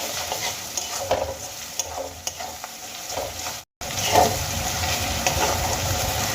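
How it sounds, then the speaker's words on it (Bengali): Onion and ginger-garlic paste sizzle and fry steadily in a pan while being stirred, with scraping stir sounds and a brief gap partway through; no talking. "পেঁয়াজের সঙ্গে আদা রসুনের পেস্টটা খুব ভালো করে আমি ভেজে নেব।"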